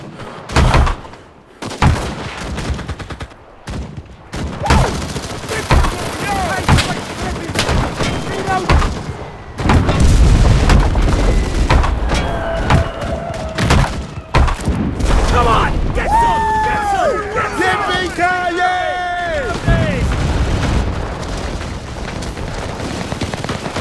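Artillery fire and explosions rumble in a World War II shooter set in the Hürtgen Forest as US Army and Wehrmacht troops clash, with heavy booms and sharp rifle cracks, some near and some distant, while soldiers shout over the battle.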